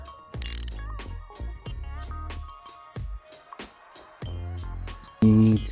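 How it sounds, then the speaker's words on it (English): Ratchet with a 13mm socket undoing a bolt at the turbocharger of a Passat Mk7 Alltrack 2.0 TDI, close-up repeated clicking strokes in short bursts with brief pauses between them. "You need to undo this bolt over here, 13mm socket, like this"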